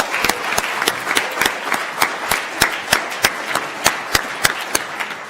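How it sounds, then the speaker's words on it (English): Audience at the 2015 NVC 7 finals claps for the competing teams, producing a steady patter of hands with sharp individual claps standing out, fairly close and without talk. "please give all of our participants a huge round of applause."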